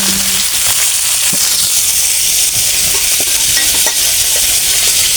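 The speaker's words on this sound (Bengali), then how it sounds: "মাছ ভাজি করা হয়ে গেছে এখন নামিয়ে" Fish fries loudly in hot oil in a wok, a dense, close, continuous crackling sizzle with bursts of popping, heard alone without speech.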